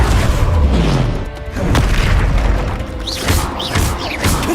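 Confringo fire spell explosions in Hogwarts Legacy: a heavy opening boom followed by several sharper blasts and whooshing bursts, loud and close, with no talking.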